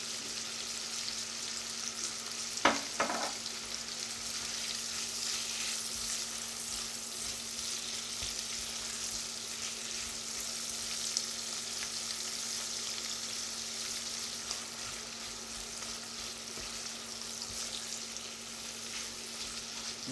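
Cucumber sautés in a pan with sake, mirin and oyster sauce, giving a steady soft sizzle and crackle throughout, with a couple of brief clicks early on and no talking.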